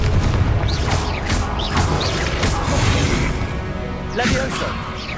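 Loud fiery spell blasts and crashing impacts from a Hogwarts Legacy combat encounter, repeated bursts with whooshes over a constant rumble, loud and close.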